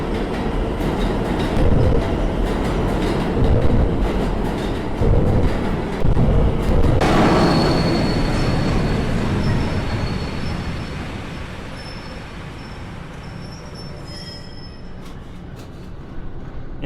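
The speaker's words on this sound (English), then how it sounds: "In Subway Midnight, you play as Elizabeth, who boards a subway at midnight." A subway train in the horror game Subway Midnight rumbles loudly along the tracks with a dense mechanical roar, then settles into a quieter rolling drone with faint high wheel squeals toward the end.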